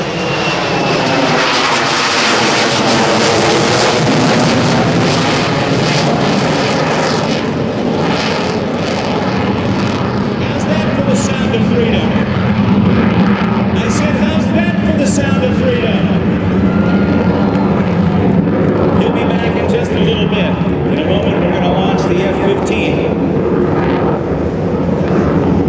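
A QF-4E Phantom jet roars through an air show demonstration, its loud engine noise sustained and shifting in pitch as it passes, with crowd sounds beneath.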